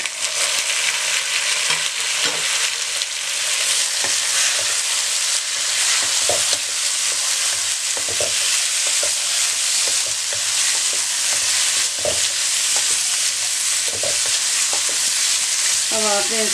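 Chicken frying with cumin seeds in a hot pan gives a loud, steady sizzle throughout, broken by intermittent clicks and scrapes of stirring, with no talking.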